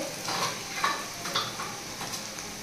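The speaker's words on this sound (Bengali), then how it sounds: "এবার এটা ভাজা হবে।" Browned onions fry in a pan on a home stove, a soft steady sizzle broken by a few light scrapes and clinks of a stirring spoon against the pan, close and fairly quiet, with no talk.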